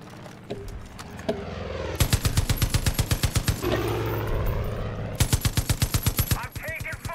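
Rapid machine-gun fire rattles in long, loud bursts during an air support attack run in the video game Far Cry 5, with a shorter burst near the start and engine rumble underneath.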